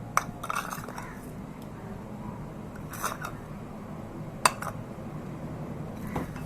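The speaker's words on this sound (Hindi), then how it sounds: "इसे अच्छे तरीके से मैं मिक्स कर लूंगी।" Potatoes being mixed with salt and black pepper in a bowl for chicken potato cutlets, heard as a few sharp clinks of a utensil against the dish over a quiet kitchen hush.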